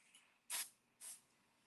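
Two short, quiet bursts of pixie spray hiss from a craft spray bottle, spaced about half a second apart against near silence.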